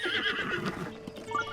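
Epona, the horse in the video game Zelda: Breath of the Wild, gives a loud whinny with hoof clip-clops, filling the short moment on its own without talk.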